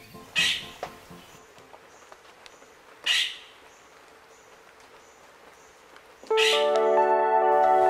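A tandikan bird calls in a Palawan sanctuary, three sharp separate notes spaced a few seconds apart against quiet forest background, the last followed by a sustained tonal hum.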